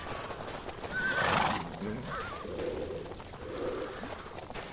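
Horses neigh and whinny in the VirZOOM Arcade video game, with a loud, rising whinny near the middle over a steady bed of game noise, clip-clopping hooves and faint voices.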